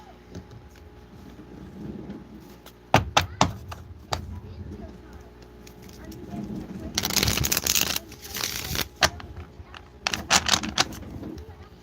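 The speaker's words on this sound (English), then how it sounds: "Let me shuffle." Tarot cards riffle and shuffle in bursts, with sharp snaps and a longer flurry midway, over a quiet background.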